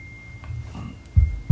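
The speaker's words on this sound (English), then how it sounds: "that's just my phone" A phone vibrates in a quiet room, giving two short, low buzzing bursts near the end over a faint hum.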